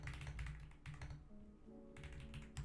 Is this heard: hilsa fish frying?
no